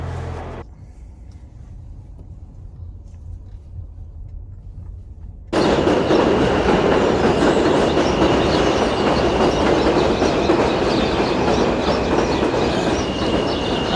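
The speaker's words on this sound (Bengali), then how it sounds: "উপরে হচ্ছে ট্রেন লাইন।" An elevated subway train runs overhead above Jamaica Avenue near 94th Street in Queens, New York. After a quiet stretch of street hum, a loud, sustained rumble of rolling wheels and rattling cars breaks in and continues to the end, with no talking.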